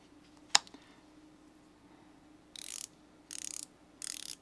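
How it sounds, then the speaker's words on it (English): A 52-tooth bit ratchet clicking close up, three short fast bursts of fine rapid clicks following a single sharp tap, quiet and isolated. "But this is a much nicer ratchet. It has 52 teeth."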